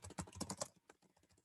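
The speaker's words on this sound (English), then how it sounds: "Am I typing at 200 words per minute?" Rapid typing on a computer keyboard while writing React Native code, a quick burst of close key clicks in a fast uneven rhythm that thins out toward the end.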